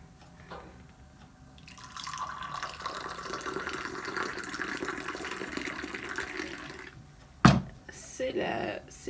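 Tea is poured at a Sunday breakfast table in a steady, fairly faint liquid stream lasting several seconds, followed by a sharp clink and some handling noise.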